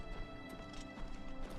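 Horse galloping in Oblivion Remastered, a rapid run of hoof clip-clops with bright thuds in a steady, driving rhythm, moderately loud and alone.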